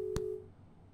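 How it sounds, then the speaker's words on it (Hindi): A telephone call cuts off during a Hindi television phone-in discussion, leaving a single short, loud disconnect beep that stops abruptly and gives way to a quiet line hiss. "फोन डिस्कनेक्ट हो गया।"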